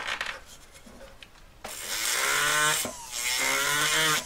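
A mini whizzer rotary tool polishes the hinge of a handmade Zippo-style lighter, whirring in two sustained bursts after quieter scraping, close and fairly loud.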